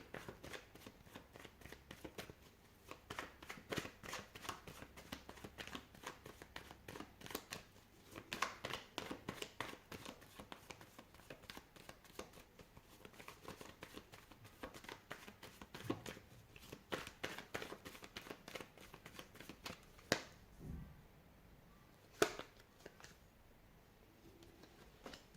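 Tarot cards being shuffled in repeated riffles and soft bridging patters, a steady fluttering rhythm of papery slaps, close and moderately quiet, with no voice and a brief lull near the end.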